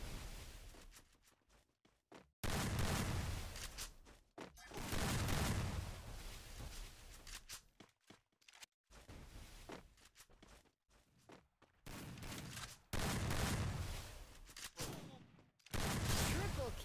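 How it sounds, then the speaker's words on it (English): Bursts of gunfire from the Free Fire battle-royale game come in dense, loud volleys separated by short gaps, with people talking in between during a tournament match. "Stop shooting at him."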